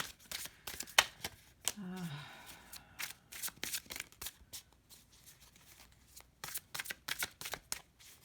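Repeated crisp riffling and slapping of tarot cards being shuffled, in quick bursts with short pauses, close up and fairly quiet.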